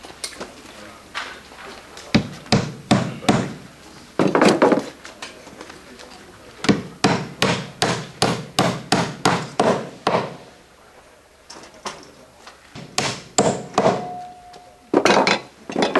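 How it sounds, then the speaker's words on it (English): Hammer blows drive nails into a cleat on a hand-built curved copper roof, arriving in several quick bursts of sharp, close metallic strikes separated by short pauses. "2 nails go in the cleat."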